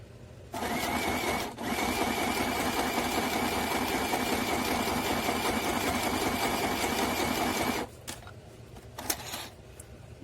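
A sewing machine running a steady zigzag stitch along the edge of a fabric pad, sewing continuously for about seven seconds with a brief pause near the start, then stopping, followed by a few faint handling clicks.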